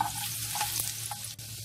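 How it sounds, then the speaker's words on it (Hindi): Finely chopped garlic sizzles and fries in hot mustard oil in a kadai, with a steady close crackling hiss and faint stirring, and no talking. "एक कढ़ाई ले लें, इसमें 1 टेबल स्पून सरसों का तेल गर्म करें और इसमें 2 टेबल स्पून कटी हुई बारीक लहसुन"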